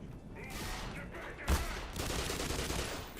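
Rifle gunfire in the video game Black Mesa, a dense rapid fusillade of shots running almost continuously with one sharper crack partway through, loud and close.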